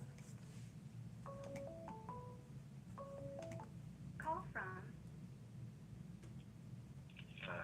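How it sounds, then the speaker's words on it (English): A telephone's electronic ringtone chirps in short rising tone bursts twice, followed by a brief warbling signal, faint against a low background hum. "We got a call."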